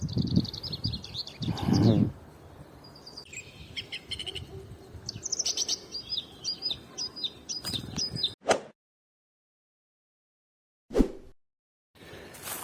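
A European robin chirping in quick, high twittering phrases, close by, followed by brief rustles and silence.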